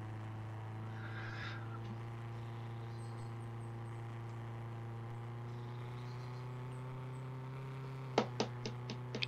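Inside a car driving on a road around Greenville, Wisconsin, there is a steady low engine and road hum at moderate level, then a few sharp ticks and clicks near the end, with no talk.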